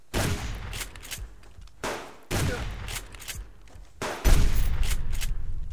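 Gunfire in the video game Subsistence, loud close bursts of rapid shots in several strings separated by short pauses, ending in a sustained volley.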